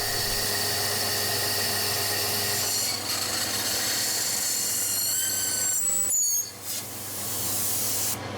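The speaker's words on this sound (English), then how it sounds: "The next thing to do is to drill a hole through the middle of the wood." A power drill whirs steadily as it bores a hole through the middle of a piece of wood, with grinding and rubbing texture and a brief pitch change near the end.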